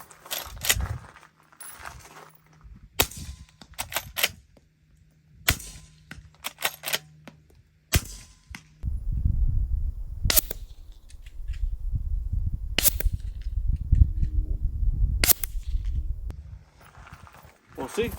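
.38 Special revolver shots fired outdoors, several sharp loud cracks spaced irregularly, with bursts of wind rumble between them and no one talking.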